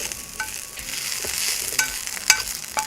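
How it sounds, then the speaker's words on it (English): Cooked onions tip from a hot stovetop pan into a Ninja blender carafe, giving a soft, steady sizzle and scraping stir with a few sharp clicks and clinks near the end. "Pour the onions from the pan"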